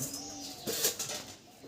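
A pigeon coos softly nearby amid faint background noise, with a brief flutter or rustle in the middle.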